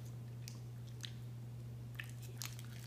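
Soft, faint chewing of sour, chewy strawberry candy, with a few scattered wet bites and squishes over a low steady hum, and no talking.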